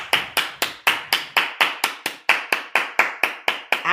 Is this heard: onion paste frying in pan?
no